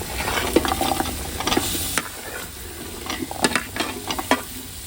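Chopped vegetables for paneer dish sautéing in a pan, a continuous sizzle broken by repeated scraping and clicking stirring strokes, fairly close and steady, no voices.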